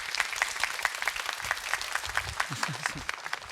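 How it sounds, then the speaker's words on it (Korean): Seated audience at an education concert applauding two speakers with steady, moderately loud clapping and a few distinct claps, and a voice heard briefly toward the end. "한준상 교수님 또 이현우 원장님께 다시 한번 뜨거운 박수 부탁을 드리겠습니다"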